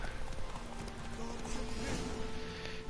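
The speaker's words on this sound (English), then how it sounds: "Why is there a horse in there?" Horse hooves clip-clop in a steady walking rhythm in The Witcher 3, set against a dense game soundscape with background music, close and moderately loud.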